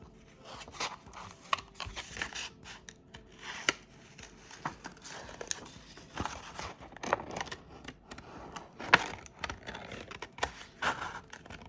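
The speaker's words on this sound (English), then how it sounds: "I'm going to carefully poke my scissors through" Scissors make irregular, crisp snips and rustles through paper, close and quiet, with short pauses between cuts.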